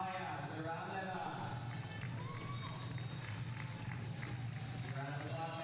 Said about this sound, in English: Round of applause for our semifinalists.